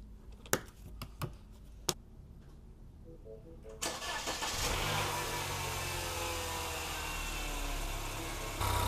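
A MINI Cooper engine cranks and catches after a few sharp clicks and clunks, then settles into a loud, steady idle close by during coolant thermostat housing work, with a brief rise in revs at the end.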